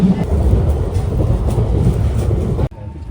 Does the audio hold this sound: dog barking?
no